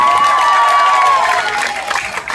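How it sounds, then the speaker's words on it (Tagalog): A crowd at a Miss Gay pageant in Canda Ilaya applauding and cheering, a dense, bright wash of claps and shouts with a whistle-like tone near the start, loud and close. "Bakit hindi ho natin sabay-sabay palakpakan at hiyawan"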